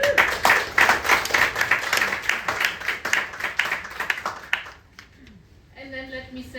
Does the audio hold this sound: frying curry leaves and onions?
no